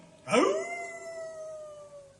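A dog's howl voiced in a puppet theatre play about bears: a single rising cry that settles into a long, steady tone held for about two seconds, fairly close and clear with no talk over it.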